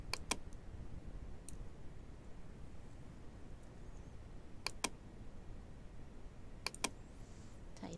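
Computer mouse clicks and keyboard taps while working in Photoshop come as a few sharp, close clicks in small pairs, spaced seconds apart over a faint steady background hum.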